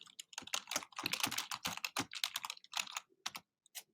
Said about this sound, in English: type some stuff